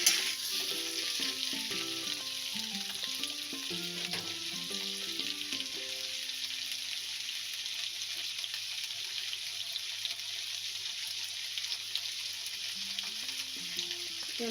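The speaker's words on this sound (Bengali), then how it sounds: "এবার এটাকে একটু ভাজা ভাজা করে নেব" Potato curry with panch phoron frying in a pan, a steady close sizzle running throughout with light stirring, while soft music plays underneath.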